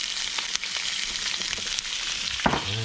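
Food sizzling steadily in a hot pan while being stirred, with scraping and clinking bursts of the utensil over a constant frying hiss.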